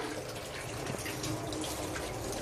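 Tap water runs steadily into a sink while dishes are washed, a constant soft gushing splash close by with no voices.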